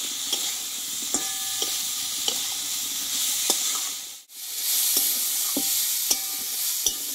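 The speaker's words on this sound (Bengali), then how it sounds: "মশলাটার সঙ্গে ভালোভাবে কষিয়ে নিয়েছি আলু সোয়াবিনটা" Potatoes and soybean chunks sautéing with spices in a pan give a steady close sizzle, with regular scraping strokes from stirring and one brief dip in the sound.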